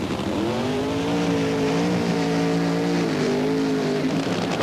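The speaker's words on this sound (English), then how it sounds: "A long, smoky burnout." A Funny Car drag racer from the Blue Max team at the 1977 NHRA Gatornationals holds a long, loud, steady burnout, its engine roaring continuously with a slight waver and tire noise throughout.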